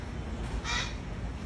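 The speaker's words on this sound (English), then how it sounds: "check out the bird." A single crow-like caw from a bird kept at home sounds once, brief and moderately close, over a steady background hum with no talking.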